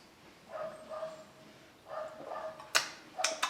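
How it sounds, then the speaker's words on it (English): Neighbors' dogs bark in short bursts from a distance, a few rounds of woofs spread across the moment, moderately faint with no one talking over them. "if you hear those barking dogs, those are my neighbors' dogs."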